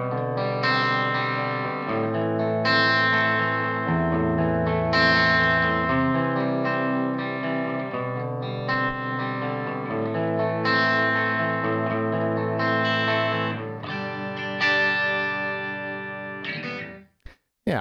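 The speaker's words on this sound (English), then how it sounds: "I can really hear the echo in this impulse response, so this has been recorded in a quite a large room," A distorted electric guitar runs through a Neural Amp Modeler amp capture with an impulse response recorded in a large empty room, sustained chords and notes with a roomy echo tail, loud and continuous before cutting off abruptly.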